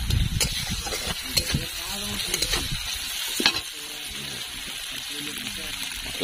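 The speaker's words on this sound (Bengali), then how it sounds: "কষানো চলছে।" Fish curry with potatoes is sautéed in a pan, with a dense, continuous sizzle and scraping stirs close by, while voices murmur faintly underneath.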